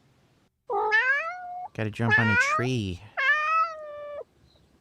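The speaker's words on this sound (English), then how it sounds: "It's meowing a lot." A cat meows repeatedly outdoors, several drawn-out high meows alternating with a person talking nearby.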